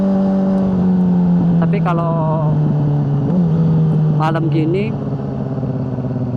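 A Yamaha R6 sport motorcycle rides at night on roads in Korea, its engine a steady loud drone with shifting pitch and brief rising revs, while the rider talks over it throughout.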